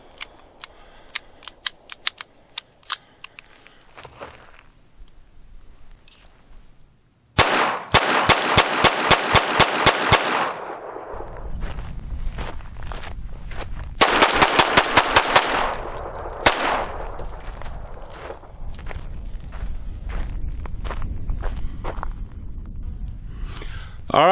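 A Phoenix Arms HP22 pistol fires Federal Auto Match .22 rounds at a range, sharp rapid shots in quick strings with brief pauses between bursts, loud and close, with some voices in between.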